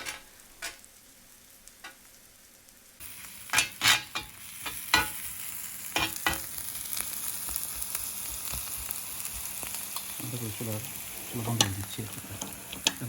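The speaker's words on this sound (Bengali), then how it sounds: "আমাদের পেঁয়াজ খুব সুন্দরভাবে ব্রাউন হচ্ছে মনে রাখতে হবে এটাকে আমরা মচমচে ভাজতে চাচ্ছি না এটা হবে নরম ভাজা" Onions frying soft and brown in a pan for a cheese steak sandwich, with a quiet start, then steady sizzling broken by scraping stir strokes and clicks from the utensil, close and moderately loud.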